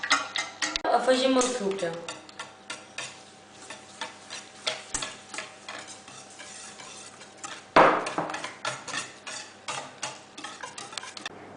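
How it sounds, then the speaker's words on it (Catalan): Four eggs being beaten for chocolate brownie batter, a fast rhythmic ticking of a whisk against a bowl, close and steady, with a voice speaking briefly over it. "Batem els 4 ous."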